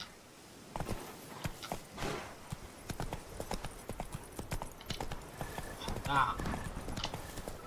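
Horse hooves clip-clop at a walking pace in The Witcher 3, steady clopping with occasional snorts, mid-distance beneath someone talking over the game.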